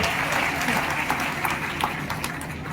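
Audience applause at an award ceremony, a dense sustained clapping from a crowd that is loud and close throughout, with a voice faintly underneath.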